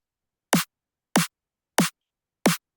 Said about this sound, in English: which is just a short zap, like a sine wave zap.